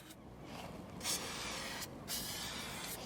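Spray paint can fitted with an Astro cap blasting graffiti background colour in steady, fast hissing bursts, with brief louder spurts between sustained sprays, close and fairly quiet.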